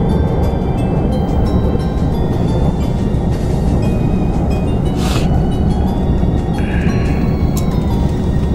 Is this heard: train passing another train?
yes